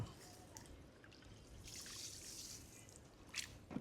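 Fish being washed in fresh water on an island trip, with soft trickling and dripping splashes that rise and fall, faint and close, with a brief louder splash near the end.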